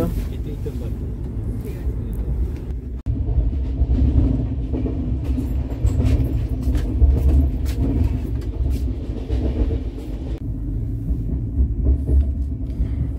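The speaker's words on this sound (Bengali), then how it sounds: "দুর্দান্ত স্পিড নিয়েছে, দেখতেই পাচ্ছ তোমরা স্ক্রিনে, 130 স্পিড তুলে নিয়েছে ট্রেন।" An express train cruising at around 130 km/h between Bardhaman and Durgapur fills the carriage with a loud, steady rumble and rattle, with a voice speaking over it.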